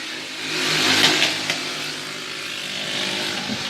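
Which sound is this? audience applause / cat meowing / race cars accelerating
race cars accelerating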